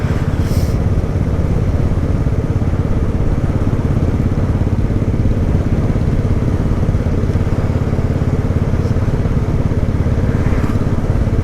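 A Royal Enfield Classic 500 motorcycle is ridden along, its engine throbbing loud and continuous with heavy low rumble and wind buffeting throughout, no voices heard.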